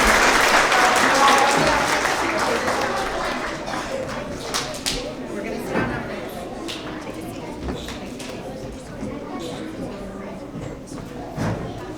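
Applause from an audience at a school award assembly for young kindergarten students, loud and dense at first, then thinning into scattered claps and fading over about twelve seconds.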